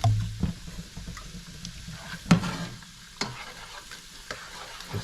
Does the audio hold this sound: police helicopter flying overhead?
no